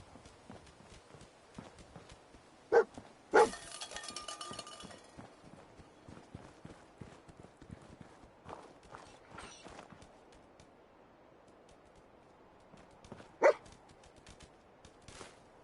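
Dogmeat, the dog companion in Fallout 4, pads along with soft rhythmic footsteps and lets out a few short, sharp barks, two close together early on and another near the end, over a quiet game backdrop.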